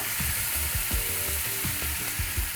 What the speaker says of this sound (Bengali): মশলা পেস্টটা যখন ভাজা ভাজা হচ্ছে